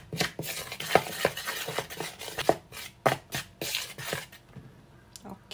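Marinade with cornstarch and black pepper being stirred in a bowl: close, irregular scraping and clacking strokes of a utensil, a steady rhythmic series with no talking over it.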